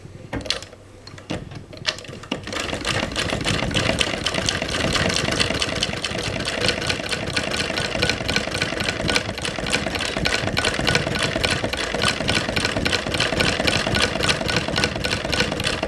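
Treadle sewing machine running steadily with its needle knocking the bobbin case, a fast even clatter and rhythmic ticking that starts after a few soft clicks and continues loud and close.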